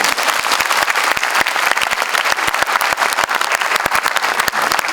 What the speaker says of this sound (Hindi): तालियां भी बजाओगे एक बार।